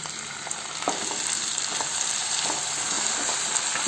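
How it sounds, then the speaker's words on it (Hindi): Chopped tomato added to onion, ginger and garlic frying in a pan for matar ghugni, with a steady loud sizzle and occasional stirring clicks throughout. "अब इसमें कटा हुआ टमाटर डाल देंगे।"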